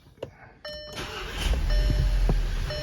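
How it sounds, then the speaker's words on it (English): A 2014 VW Beetle Turbo engine cranks briefly and catches, then settles into a steady close idle with a running fan hum underneath. "I am going to start the motor back up."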